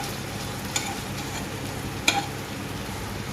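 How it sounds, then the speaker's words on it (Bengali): Tomato pieces being stirred into a cooking mixture in a pan, a steady soft scraping and sizzle with a couple of sharp utensil clicks. "কয়েক টুকরো টমেটো দিয়ে ভালো করে মিশিয়ে নিন।"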